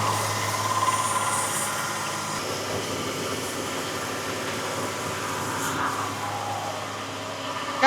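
Freshly rebuilt 300 inline six engine running steadily at its first start during cam break-in, a continuous close drone with no breaks in level and a brief rise at the very end.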